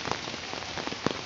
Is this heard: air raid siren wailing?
no